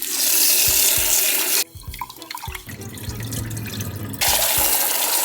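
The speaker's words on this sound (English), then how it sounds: "Step one is you need to rinse your rice." Tap water gushes into a pot as rice is rinsed, a steady loud stream that briefly cuts off for splashing and swirling of grains before the full flow returns.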